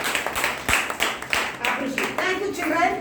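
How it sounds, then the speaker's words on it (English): A group of volunteers claps hands together at a district training session, with several uneven bursts of applause mixed with speaking voices. "So, give a big hand. Clap."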